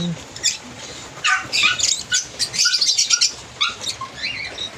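Indian ringneck parakeets, a Lutino hen and a green pallid hen, in a small backyard mini aviary give repeated short, fairly loud chirps and squawks over rustling background noise.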